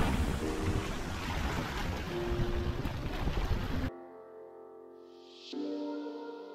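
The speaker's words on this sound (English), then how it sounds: "I'm just enjoying the waves and the breeze," Ocean waves and a breeze on an African coastline: a loud, steady rush of surf and wind for about four seconds, then an abrupt cut to a much quieter passage of steady tones.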